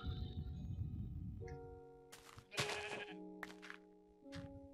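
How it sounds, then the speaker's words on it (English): Sheep in Minecraft on PS3 give several short, nasal bleats, one after another with brief gaps, close by and clear over quiet game ambience. "bunch of sheep over here."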